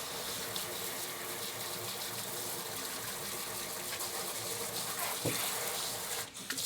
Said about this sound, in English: I may need to add some more water.